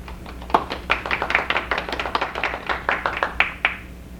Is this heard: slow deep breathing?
no